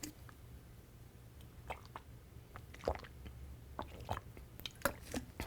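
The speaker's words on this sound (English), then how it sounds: "I'm just going to drink some water here." A person taking small drinks of water, faint close-up sips, gulps and wet mouth clicks scattered irregularly over a quiet background, with no talking.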